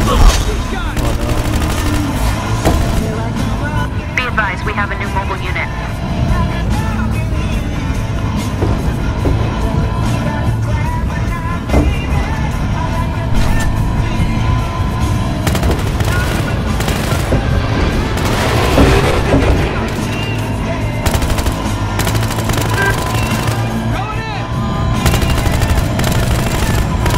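Gunfire in the video game Battlefield Hardline during a vehicle chase mode, rapid automatic bursts and scattered shots nearly nonstop, mixed with engine noise and a player talking over the action.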